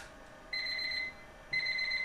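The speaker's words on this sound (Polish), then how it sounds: "Ja tu będę musiał budzik nastawić." An alarm clock beeping, two pulsed electronic rings of about half a second each, separated by a short pause, close and clear.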